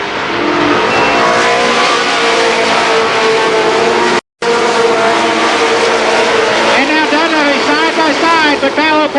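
Race cars at Columbus Motor Speedway in 1990, engines roaring continuously as the field races around the oval, loud and sustained under an excited announcer's commentary, with a brief dropout midway.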